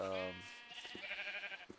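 Sheep bleating among livestock in the Minecraft Hexxit modpack, a drawn-out wavering bleat followed by a second higher, thinner bleat, fairly quiet with faint clicks in the background.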